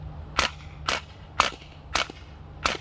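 A Drozd BB machine gun fires in sputtering single pops rather than a steady burst, five sharp, fairly close cracks spaced about half a second apart over a low hum.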